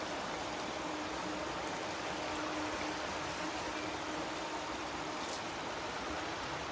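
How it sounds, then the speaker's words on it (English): River water flowing along a nature walk beside a bike trail, a steady broadband rush with no gaps, fairly close, with no one talking. "Love to hear the sound of that water."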